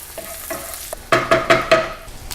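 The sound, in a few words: garlic sizzling in browning butter, being stirred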